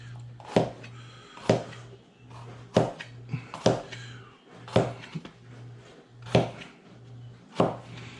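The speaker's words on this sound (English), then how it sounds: "slice up your peppers." A knife slices peppers on a cutting board for meatloaf, sharp distinct chops landing roughly once a second, close and clear with a faint hum between strikes.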